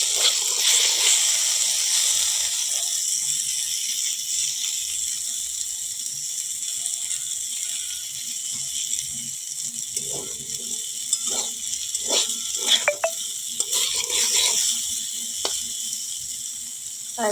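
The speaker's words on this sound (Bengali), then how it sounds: "দেখো বেগুন ভাজছি আর কড়াইটা দেখো পুড়ে শেষ।" Eggplant frying in a badly scorched wok gives a steady, close sizzling hiss throughout, with scattered soft clicks and scraping stirs around the middle and later parts.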